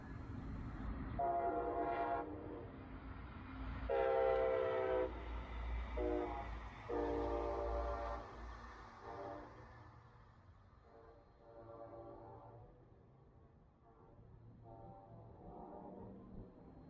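A Brightline test train runs northbound over the Crane Creek Bridge in Melbourne, Florida, sounding its horn in several loud, sustained blasts, then rumbling steadily across the span as the horn fades.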